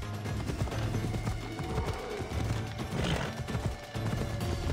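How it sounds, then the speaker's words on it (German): Rhythmic hoofbeats of a galloping horse in Assassin's Creed Odyssey over a busy game soundscape, with thumps and rumbling effects layered beneath. "Galoppier doch bitte mal, danke."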